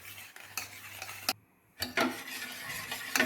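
A spoon stirs and scrapes through kanji flour mixed with water in a pot, close and distinct, with a series of quick strokes, a brief pause, then more stirring.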